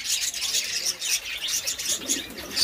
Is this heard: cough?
no